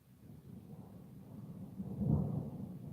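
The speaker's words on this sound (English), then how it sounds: "now it's thundering" Distant thunder rolls as a low, faint rumble that swells to a peak and then fades, with no voices.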